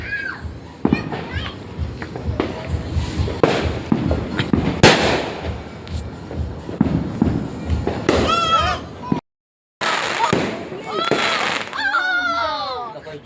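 Fireworks and firecrackers pop and crack out on the street in bursts, with sharp loud bangs mixed among excited children's voices and chatter nearby.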